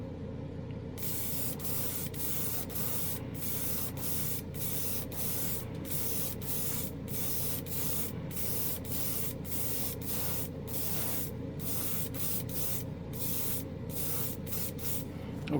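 Spray gun applying pink anodized metal paint: a loud, close, continuous hiss of spraying, broken by a rapid series of brief regular pauses as the trigger is released and pulled.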